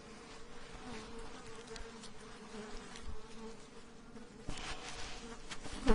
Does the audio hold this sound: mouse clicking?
no